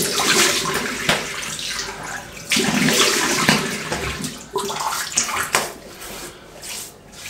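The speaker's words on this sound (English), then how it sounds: "let's wet the face" Water splashes and drips in a bathroom sink as a face is wetted before shaving with a GSC Java Latte razor; close, repeated scooping and splashing bursts with running water underneath, no talking.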